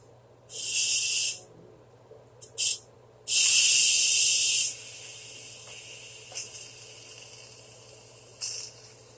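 An Instant Pot venting pressure gives loud bursts of hissing steam: a short blast, a brief puff, then a longer strong release that tapers into fainter intermittent hisses, over a low steady hum.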